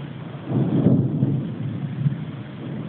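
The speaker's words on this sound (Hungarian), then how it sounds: "És ahogy dörög az ég" Thunder from a lightning storm at Verudela rolls as one low rumble that swells and slowly fades, steady and fairly close, with no voices.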